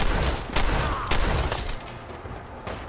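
Gunfire in the video game Fallout 4: Far Harbor, several sharp, loud shots at uneven intervals over a couple of seconds with a rumbling tail.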